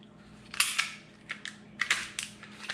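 The slide of a Taurus G2C pistol is racked back with a series of crisp metallic clicks and snaps, close and distinct, arriving in separate sharp bursts with short gaps between them.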